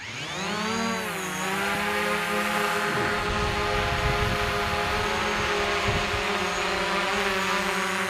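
A DJI Mavic drone climbs after takeoff, its rotors rising in a quick pitch sweep before settling into a loud, steady, close buzzing whine.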